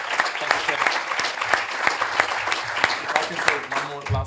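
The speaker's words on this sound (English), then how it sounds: "Let's give a round of applause." Audience applause at a public talk on a cycling project in Lisbon, steady dense clapping throughout, fairly close and sustained.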